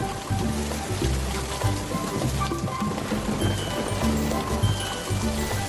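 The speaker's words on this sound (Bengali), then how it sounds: "দেখেছো বাবা, কত জোরে বৃষ্টি হচ্ছে।" Heavy rain falling as a cartoon sound effect, a dense continuous patter and splash of drops at steady loudness, with faint murmuring in the background.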